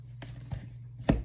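Three separate thuds of a spoon chopping chicken breast in a bowl, soft and close, with a low steady hum in the background.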